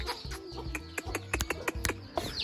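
A hen clucking to call her chicks, a quick run of short, throaty clucks in an uneven rhythm, close and fairly clear, with a few brief higher notes mixed in.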